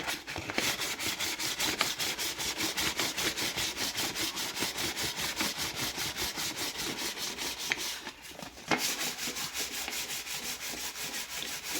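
Fine 1200-grit sandpaper rubs back and forth over a wood patch on termite-damaged wood, making a steady, rhythmic rasp of quick even strokes with one brief pause.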